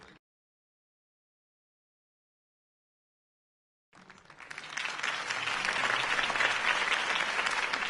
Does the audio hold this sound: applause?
yes